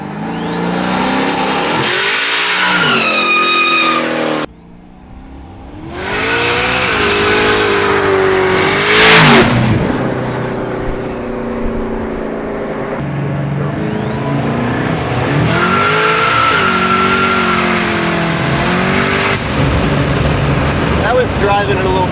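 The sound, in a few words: 1600 hp twin turbo Buick Grand National engine accelerating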